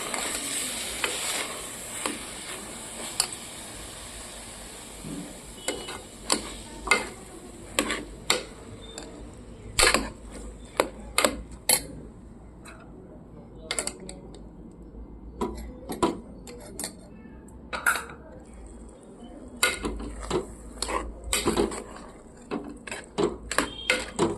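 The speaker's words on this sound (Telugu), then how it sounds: "బీరకాయ, ఆలు ఈ రెండు కూడా వేసినా మళ్ళీ ఒకసారి బాగా కలబెట్టుకోవాలి" A spoon stirs ridge gourd and potato pieces in a cooking pot, giving a run of sharp scraping clacks against a faint sizzle, at times clustered and at times spaced out, close and fairly quiet.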